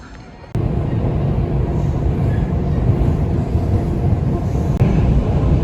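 Double-decker airport train in Moscow running past at close range, a steady dense rumble that starts abruptly about half a second in and then holds roughly level, with no voices.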